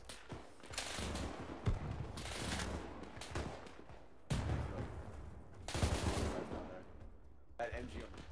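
Machine gun fire in ArmA 3, Spearhead 1944 D-Day setting, comes in loud, dense rattling bursts that nearly fill the stretch, broken by short lulls, with voices present underneath.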